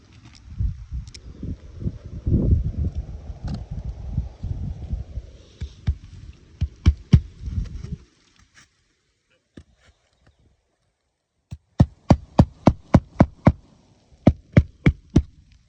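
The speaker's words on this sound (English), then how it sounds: "We're going to go ahead and start nailing" Nails being hammered in place during a home repair: sharp, close metallic strikes in quick regular bursts of about a dozen blows, following earlier low rumbling handling noise and a brief quiet stretch.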